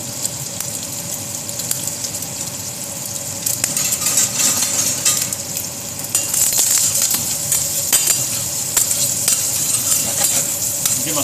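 Food fries in a pan with a steady, crackling sizzle throughout, brightening and growing busier partway in, with occasional clinks and stirring scrapes and no one speaking.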